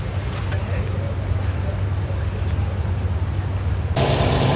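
Steady rain falls at an outdoor antique truck show in Macungie, Pennsylvania, a dense, unbroken hiss that lasts throughout and grows a little brighter near the end.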